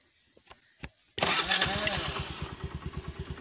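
A Honda Dio scooter engine is started with its electric self-starter after near silence with a few clicks, then catches and settles into a loud, close, pulsing idle.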